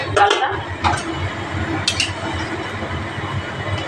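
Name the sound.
opening the lid of a pot of cooking gourd dal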